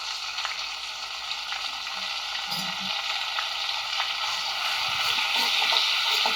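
Garlic and ginger paste frying with dry spices in a pan over medium heat for a Rajasthani gatte curry, giving a steady, close, moderately loud sizzle that holds throughout with no talking.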